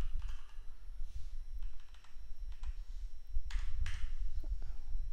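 Quiet keystrokes on a computer keyboard, several scattered clicks and a short burst of taps, picked up close over a low background hum with no speech.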